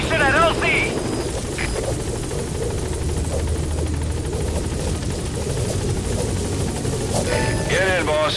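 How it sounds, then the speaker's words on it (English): Support helicopter arriving at a landing zone in Metal Gear Solid V, a steady close rotor drone with chopping thud throughout, brief bursts of game chirps and radio-style voices at the start and end. "Support helicopter has arrived"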